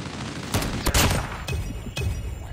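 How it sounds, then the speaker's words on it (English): Machine gun fire in Call of Duty Mobile hardcore mode comes in several short, loud bursts close by, separated by brief gaps and ringing over steady game background noise. "This guy with a machine gun killed you."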